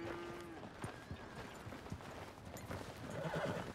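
A horse in the Western open-world game Red Dead Redemption 2 whinnies amid steady clip-clopping hooves, with the neigh at the start and hoof steps continuing throughout, moderately loud under light background ambience.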